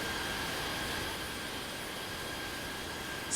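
A jet airliner takes off from runway 27 left at London Heathrow, a steady broadband roar of engine and rushing air filling the whole stretch without letup.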